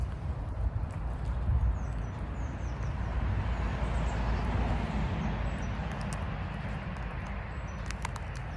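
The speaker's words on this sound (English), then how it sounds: "you can hear the traffic going by" Road traffic passes at a distance as a steady, broad low rumble that swells slightly and then eases, with faint higher chirps now and then and no talking.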